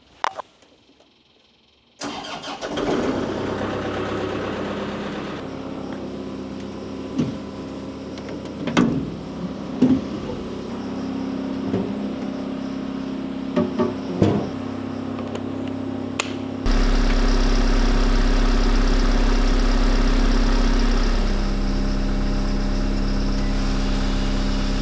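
A loader's diesel engine cranks and catches after a short silence, then idles unevenly with a few surges and clunks while it warms up, and it settles into a steadier, louder drone near the end.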